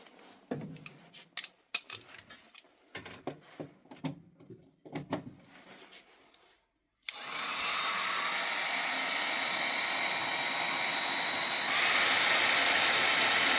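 After some clicks and handling noises, a 1.2 kW hair dryer powered by a Forte PS-1024LFP portable power station switches on with a steady whooshing roar, then gets louder as it shifts to its second speed.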